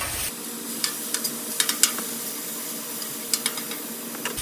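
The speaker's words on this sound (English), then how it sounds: "This salmon is smelling good. I'm gonna go ahead and get it flipped." Salmon sizzling on a Blackstone griddle, a steady close hiss with several sharp spatula scrapes and taps as the fish is flipped; no talking.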